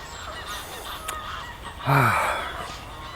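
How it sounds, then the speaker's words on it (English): Faint honking fowl calls come from nearby, with one louder burst of quacking near the middle over a low outdoor background. "You get scared of the noise of the ducks and everything"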